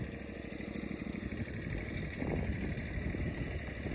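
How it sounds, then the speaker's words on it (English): Mower cutting golf course tees and fringes, a steady mid-pitched engine drone that holds at an even level and swells slightly partway through, heard from a short distance. "We're mowing tees and fringes right now"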